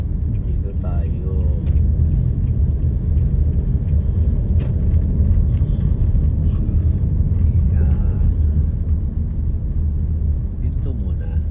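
Street traffic on Argyle Street in Hong Kong, a steady low rumble of passing cars and buses running nonstop under a nearby voice talking throughout.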